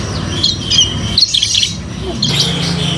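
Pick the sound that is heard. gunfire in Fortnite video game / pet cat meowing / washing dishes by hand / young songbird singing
young songbird singing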